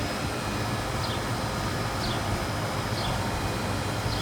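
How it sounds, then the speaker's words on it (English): An outdoor air conditioning unit running steadily in a garden, a loud, constant broadband whir and rush that fills the whole clip without pause. "That's the air conditioning again."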